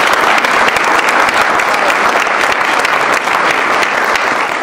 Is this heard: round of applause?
yes